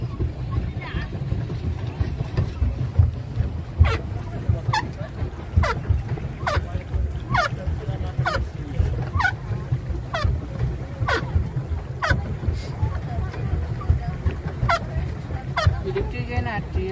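A boat on the water gives a low, steady engine rumble. Sharp honk-like calls repeat at a regular beat on top of it, and people talk nearby.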